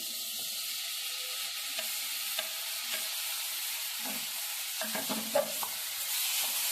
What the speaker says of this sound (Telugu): ఆనియన్ అనేది జస్ట్ లైట్ గోల్డెన్ కలర్లో వచ్చేంత వరకు ఒకసారి ఫ్రై చేసుకున్న తర్వాత మనం టమాటాను కూడా అందులో యాడ్ చేసేయడము